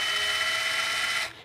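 A small cordless drill runs steadily for just over a second with a high, even whine, close and loud, then spins down and stops.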